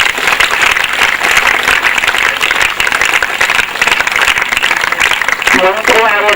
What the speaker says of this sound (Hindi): बहुत सुंदर। तालियां बजाएं जोरदार।